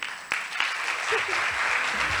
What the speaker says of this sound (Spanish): Un fuerte aplauso para la doctora